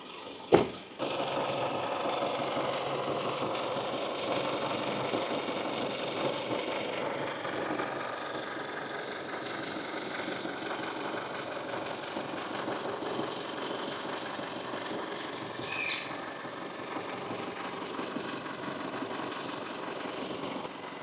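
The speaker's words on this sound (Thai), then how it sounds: "เดี๋ยวเราไปฟังเสียงเครื่องยนต์ที่ด้านหน้าเครื่องกันครับ" An Isuzu D-Max 3.0 diesel pickup truck engine idles steadily and quietly with an even low rumble, a sharp click near the start and a brief rattle later.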